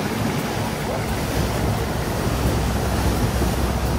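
A speedboat races across the sea near Phi Phi island in Thailand, with constant loud rushing water, engine roar and wind buffeting throughout and no talk.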